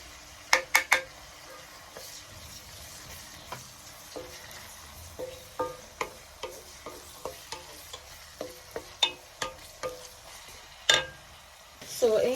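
Garlic hits hot coconut oil in a pot, giving a soft, steady sizzle with a run of sharp clicks and taps as it is stirred, fairly close, with no talking.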